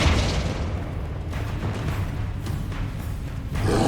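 The Flipendo spell cast in Hogwarts Legacy lands as a low, booming blast that rolls into a sustained, heavy rumble, loud and close throughout with a fresh surge at the end.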